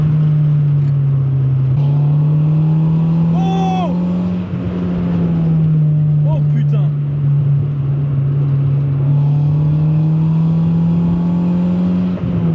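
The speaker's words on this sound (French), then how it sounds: "ça clairement c'est le son de l'échappe" Honda Civic fitted with a stainless steel exhaust line, driving: a steady loud droning engine note holding at constant revs, with a couple of short squeaks and a man's exclamations over the top.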